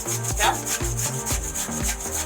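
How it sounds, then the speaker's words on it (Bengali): Carrots are grated on a hand grater with steady, rhythmic rasping strokes, roughly two per second, close and fairly loud, with no talking over them. "আপনাদের এরকম গ্রেটার মেশিন সবার বাসায় থাকে। এভাবে করে গ্রেট করে নিয়ে"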